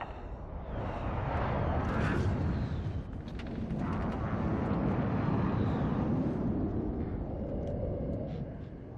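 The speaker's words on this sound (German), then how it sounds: "Feindliche Drohne über uns!" An enemy drone in Call of Duty Warzone passes overhead as a loud, sustained whooshing roar that swells and holds for several seconds, with faint background game sounds and no talk over it.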